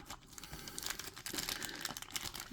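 Scissors cutting plastic packaging to free a Zuikaku race queen anime figure during an unboxing, giving soft close snips and crinkling of thin plastic and card, faint and intermittent with no talk.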